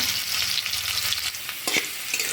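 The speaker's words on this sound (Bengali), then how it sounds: "আলুগুলো ভাজা হয়ে গেছে" Diced potatoes coated with turmeric and salt fry in mustard oil in a wok, giving a steady sizzle broken by a few stirring scrapes.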